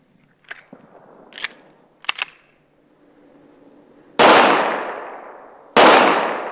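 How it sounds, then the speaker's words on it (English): A pistol fires two loud, sharp gunshots at a target 25 yards away, each with a long decaying echo, preceded by quiet clicks and handling noises. "I'm going to shoot at a target set at 25 yards"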